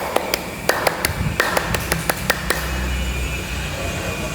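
A scout-style rhythmic clapping pattern, about a dozen crisp hand claps in a patterned sequence that stops after a couple of seconds, leaving low background rumble.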